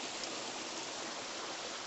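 A small mountain stream, running fuller than usual after recent rain, flows in a steady, even rush of water with no breaks or other sounds.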